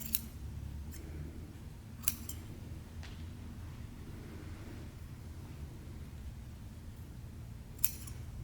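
Scissors snip through the dried cornhusk hair of a handmade doll, a few sharp, separate cuts spaced apart against a quiet room hiss.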